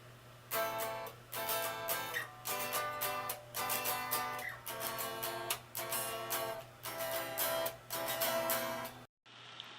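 Acoustic guitar strummed in full chords for the verses of a song, steady rhythmic strokes grouped in bars, loud and close, stopping abruptly near the end.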